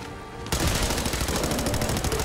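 Explosive automatic pipe rifle from Fallout 4 opens up after a short quiet moment and keeps firing as a loud, rapid, steady automatic burst, with the explosive rounds giving each shot a dense, booming crackle.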